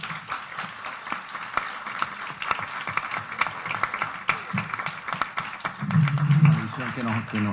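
Applause from a seminar audience, dense clapping throughout with a voice speaking over it near the end.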